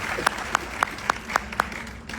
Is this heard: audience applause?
yes